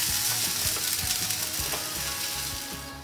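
Green kebab filling for hariyali kebab rolls fries in a pan with a close, continuous sizzle and a few quick stirring scrapes, fading slightly toward the end.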